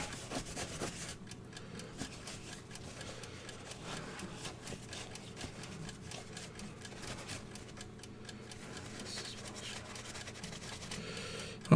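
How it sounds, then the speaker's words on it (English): Steady close rubbing and rasping of a metal part being hand-polished before nickel plating, a continuous scratchy friction with small ticks running unbroken for the whole stretch, no voices. "Well, this is polishing up very nicely."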